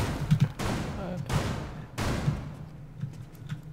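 Several sharp gunshots crack out in Rainbow Six Siege, three loud separate bursts roughly half a second apart followed by fainter distant shots, with a low hum underneath.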